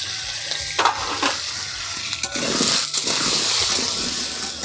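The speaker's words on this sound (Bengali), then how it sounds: "আলুগুলো সুন্দর করে লাল লাল করে ভেজে নেব" Potatoes frying in oil with salt and turmeric for aloo dum, a steady broadband sizzle with a few stirring scrapes and clinks, fairly close and loud, no voices.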